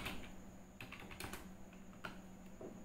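Quick, light keystrokes on a computer keyboard while text is entered in a word processor, irregular clusters of clicks close up over a quiet room hum.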